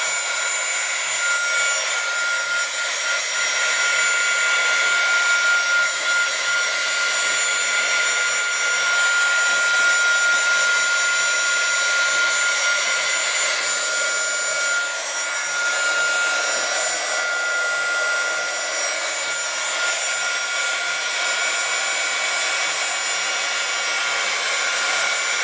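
A handheld heat dryer runs steadily over a repurposed steampunk-style book cover craft, giving a constant high-pitched whirring hiss that stays even and close for the whole stretch with no voices.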